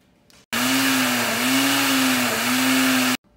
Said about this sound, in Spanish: ahora sí que está licuado eso. Se la echo al último porque mi licuadora no está tan buena.